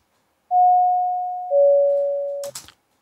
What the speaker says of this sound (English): Then there was this doorbell thing.